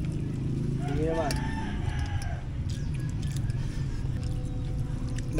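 A rooster crows once, loud and nearby, over a steady low engine hum with faint background chatter.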